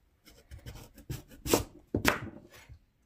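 A knife cuts diagonally through a Japanese sweet potato on a board, about half a dozen soft, close slicing strokes, a couple sharper than the rest, with no talk.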